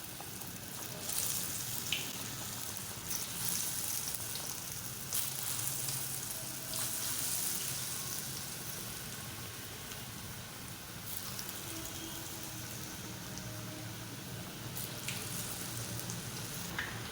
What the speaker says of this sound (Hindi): ये देखें आप देख सकते हैं हमारे पकोड़े अब बनते जा रहे हैं।